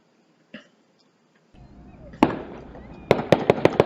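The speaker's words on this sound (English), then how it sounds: "Fires some rounds" A handgun fires several sharp cracks in quick succession near the end, following a single earlier pop and a stretch of rustling background noise.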